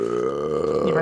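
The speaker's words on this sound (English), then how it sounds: "my burps taste like alcoholic Fruity Pebbles" A single long, loud, drawn-out burp from a person who has been drinking moonshine, close and full-bodied, lasting about a second.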